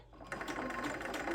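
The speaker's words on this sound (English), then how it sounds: "seam in so I can top stitch over it and close it up" Sewing machine top stitching along a folded seam of a fabric tote bag, a steady close whirring hum running continuously after a brief pause at the start.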